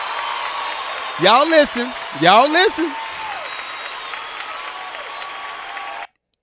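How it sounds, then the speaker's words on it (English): Applause at a podcast recording runs as a steady wash of clapping for several seconds while someone speaks over it, then cuts off abruptly. "let me give her a clap"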